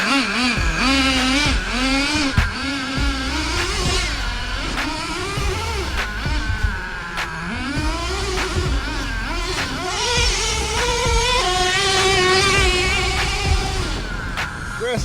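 A Traxxas T-Maxx 3.3 nitro RC truck runs on tall grass, its small engine buzzing high and revving up and down in continuous wavering sweeps, loud and close throughout with no voices.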